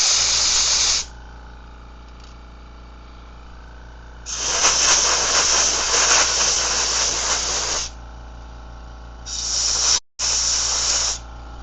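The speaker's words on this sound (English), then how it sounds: "head back over to the air compressor, blow out the excess oil, because we're not going to need that in there" Bursts of compressed air from an air compressor nozzle blast oil out of a tuned Ambassadeur 2500C fishing reel: three loud hissing sprays, short, long, then short, over a low steady compressor hum.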